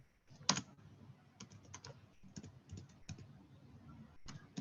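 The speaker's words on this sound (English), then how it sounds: "You're typing, honey?" Rapid typing on a computer keyboard: irregular bursts of close, crisp key clicks with brief pauses between runs, no voices.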